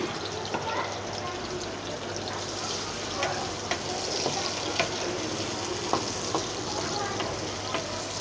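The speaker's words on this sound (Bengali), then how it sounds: "এটা এখন পেঁয়াজ কুচি ছেড়ে দিলাম।" Chopped onion fries in hot oil in a kadai for a beef curry, giving a constant, moderately loud sizzle with scattered small pops and the clatter of stirring.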